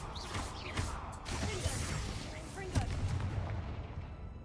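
An Incendio fire spell is cast in the game Hogwarts Legacy, bursting with crackling whooshes and sharp blasts over a rumbling bed, loud and close, with a voice speaking over it.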